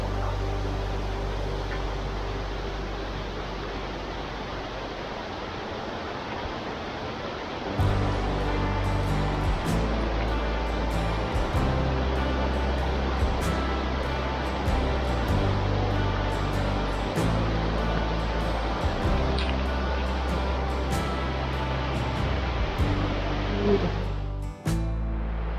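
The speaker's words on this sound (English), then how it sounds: "You can hear it, that running water" Steady rushing of a small creek gurgling over boulders beside a walkway near a campground, a broad continuous wash of water noise with some low rumble, no voices.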